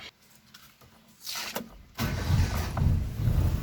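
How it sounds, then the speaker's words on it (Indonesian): A 2005 Suzuki Katana GX with its door open: a short electric whir, then the engine catches and settles into a steady, loud idle close by. "kali ini kita hidupkan posisi mesin, kali ini kita hidupkan posisi pintu terbuka"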